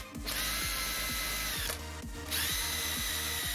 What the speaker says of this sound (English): I'll bolt down all the brackets.